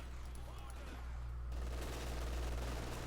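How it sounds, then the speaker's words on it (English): Light machine gun fire from German grenadiers in Company of Heroes 2, a sustained dense crackle of rapid shots under a steady low rumble, continuous across the whole stretch. "they're getting shot to bits by the light machine gun wielding grenadiers"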